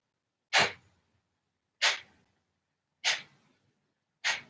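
Four sharp, forceful nasal exhales of Kapalabhati yoga breathing, evenly spaced about every 1.2 seconds, each a short burst fading quickly, close and alone with no talk.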